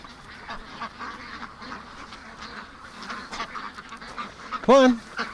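Ducks quack softly in the background through a babble of voices, then one loud, close quack rings out near the end.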